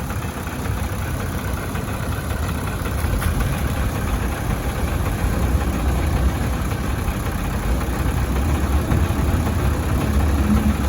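A black six-wheel truck sits idling on a narrow rural plot, its engine giving a steady low rumble with constant vibration, close and unbroken throughout.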